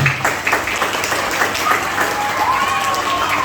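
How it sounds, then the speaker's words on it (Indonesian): A student audience at a Banten student ambassador roadshow claps throughout. The applause is steady and blends with crowd noise and a faint tone. "tepuk tangan buat kakaknya"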